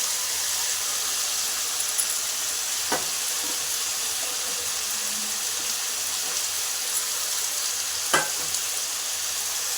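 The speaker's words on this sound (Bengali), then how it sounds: "যে ডালটা ধুয়ে রেখেছিলাম সেই ডালটাও দিয়ে দিলাম এর মধ্যে।" Washed lentils frying in a pan with vegetables for vegetable dalia give a steady broadband sizzle throughout, broken by two sharp utensil scrapes or clinks, with no talking.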